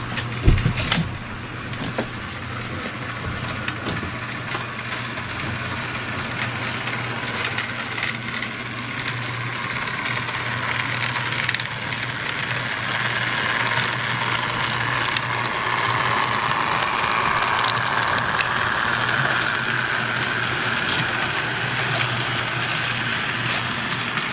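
An HO scale Life-Like Alco Century C-628 model locomotive runs steadily past, its small motor and gears giving a continuous mechanical whir with a faint hum, alone and at an even level throughout.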